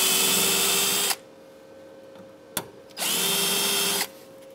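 A power drill bores into the cab corner sheet metal of a 2001-2006 Chevrolet Silverado 2500 in two loud, steady bursts of about a second each, with a sharp click between them and a quiet gap.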